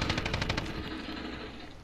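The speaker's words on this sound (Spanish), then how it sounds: "¡Me están disparando!" Rapid automatic gunfire in Call of Duty Warzone, a quick burst of about eight shots in the first second, then fading into a low rumble.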